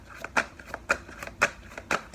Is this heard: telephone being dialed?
no